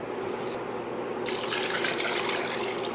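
Water pours into a pot of curry pasta soup, a steady broadband rush that starts about a second in and runs continuously to the end, close and fairly loud, with no talking.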